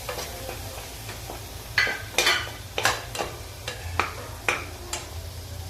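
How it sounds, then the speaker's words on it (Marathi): Ground black sesame paste being sautéed and stirred in a pan for a drumstick curry, with soft frying sizzle under a series of distinct scraping and clinking strokes of the spoon against the pan, close and fairly quiet. "त्यानंतर त्यामध्ये मी काळ्या तिळाचं वाटण टाकते। हे पण चांगलं परतवून घेते।"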